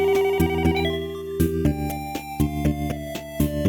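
A telephone ringtone plays loudly in a Japanese suspense drama, a bright repeating electronic melody with steady pulsing notes filling the whole stretch, no voices over it.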